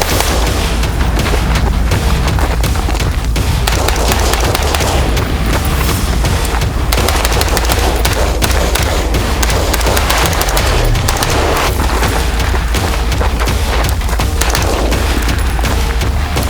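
Knights Armament SR-15 Mod 2 rifle firing on an outdoor range, a loud, dense run of rapid booming shots that carries on for the whole stretch, with no talking.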